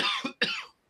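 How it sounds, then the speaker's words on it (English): Two quick, close coughs from a man on a live sports talk show, the second slightly louder, followed by silence. "had to cough"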